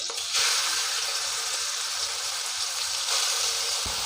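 Five onions sauté in three tablespoons of hot coconut oil in a heavy pan for a Kerala chicken roast, making a loud, steady close-up sizzle with brief stirring shifts.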